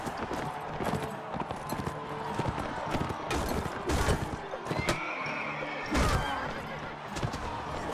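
A horse in the medieval combat game Mount and Blade: Warband neighs and whinnies amid clip-clopping hooves and thuds of combat, fairly close, with a voice occasionally talking over it.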